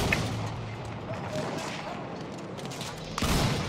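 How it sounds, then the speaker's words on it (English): Mortar fire in the Battlefield 1 video game, a dense wash of distant rumbling explosions and gunfire throughout, with a sharper, louder burst near the end. "I'm just gonna go for a quick mortar shot, if anything."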